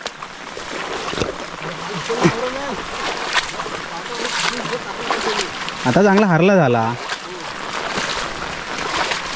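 Water flowing through rice paddy fields in a Konkan village during the rains, a continuous broad rush of running water, with people talking over it.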